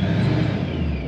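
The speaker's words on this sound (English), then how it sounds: "I think the blower is louder than the exhaust" A supercharged 4.6L Ford Aluminator engine runs at a steady idle, its loud blower whine layered over a deep, even exhaust rumble, close and continuous for about a second with no talk.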